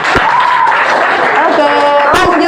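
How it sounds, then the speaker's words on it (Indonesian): A classroom of students claps for a classmate named Adam in a busy burst of applause that fills the short moment, with voices mixed in. "Tepuk tangan untuk Adam."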